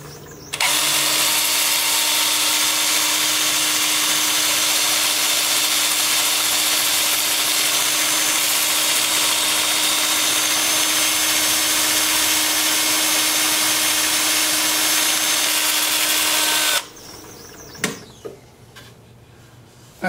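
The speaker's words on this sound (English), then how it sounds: "I'm going to start off sanding in reverse." A wooden maple bowl is sanded on a lathe spinning in reverse at about 350 rpm, a steady, loud, droning whir of abrasive on wood that holds for about seventeen seconds before cutting off to a few clunks.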